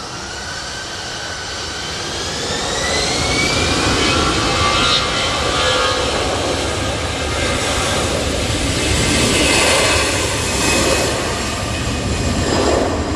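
A jet airliner landing at Manchester Airport during Storm Floris, its engines a loud continuous roar with a rising whine, mixed with heavy wind buffeting, swelling and holding as the aircraft touches down.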